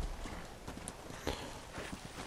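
Horse hooves clip-clopping steadily in Red Dead Redemption: Undead Nightmare, a continuous close rhythmic trot with no talk over it.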